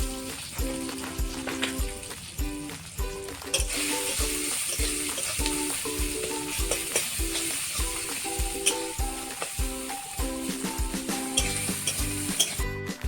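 Turmeric, chili powder and salt masala fries in hot oil, a continuous crackling sizzle layered with frequent rhythmic scraping and stirring strokes of a spatula against the pan, close and fairly loud throughout, with no voices.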